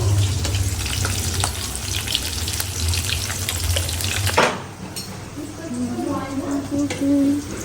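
Fish frying in a pan, a steady close sizzle with stirring clatter for the first few seconds, then quieter crackle after a sharp clunk, with someone talking through much of it.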